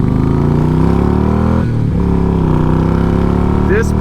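Yamaha Stratoliner bagger motorcycle engine while riding on the road, a loud, steady V-twin drone with a brief dip as the throttle eases, then resumes, close and continuous.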